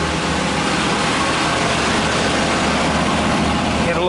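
A 1980s Chevrolet Caprice engine idles while warming up after a cold start, a steady low rumble that stays loud and close throughout, with no change in pitch.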